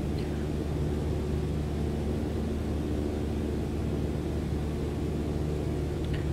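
A light aircraft engine runs at full power in Microsoft Flight Simulator during a go-around, a loud continuous droning roar with steady low harmonics.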